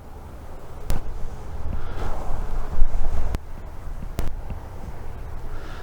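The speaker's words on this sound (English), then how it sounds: "Trying to do some adjusting on my microphone here so the wind is starting to pick up." Wind gusting across an outdoor microphone in a cemetery, a low rumbling buffet that swells and fades, broken by a few sharp pops and knocks as the mic is handled, with no talking.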